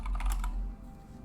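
Quick, faint clatter of keys on a computer keyboard as a search is typed, several light taps in the first half-second, then quiet.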